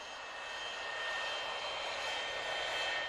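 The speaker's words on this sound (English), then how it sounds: "It's Jeremy the jet plane." A jet plane's engine roars steadily and evenly with a high whining tone, heard on its own without voices, as a sound effect in a children's TV show.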